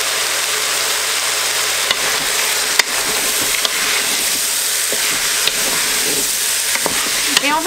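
Lamb and garlic fry in a pan with a steady, close sizzle, and a utensil stirs through it in scattered scrapes and knocks. No one speaks.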